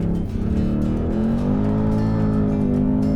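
A Ford Mustang Dark Horse on R-compound track tires powers out of a hairpin on a race track, its V8 rising in pitch in a loud, continuous rev with faint tire noise.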